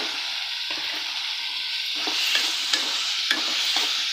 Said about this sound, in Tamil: இப்போது நம்ம நறுக்கி வச்ச தக்காளி அதையும் போட்டுக்கலாம்.